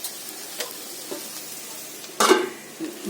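A chorchori of radish, carrot, potato, eggplant, pointed gourd and onion tempered with black cumin fries in a pan, making a soft, steady sizzle broken by a few scraping stirs, with one louder scrape near the end.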